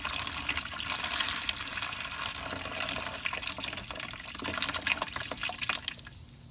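Water holding Varias platy fish is poured into an aquarium tank, a faint, steady trickle and splash with small drips, close by and without any talking.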